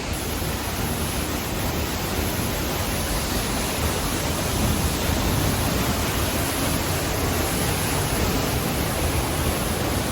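Loud waterfall roaring inside a cave in Bangalore Creek Canyon, a dense, steady rushing wash of water noise that fills the space without pause for the full ten seconds.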